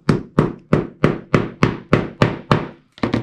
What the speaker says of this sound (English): we're just going to hammer that into place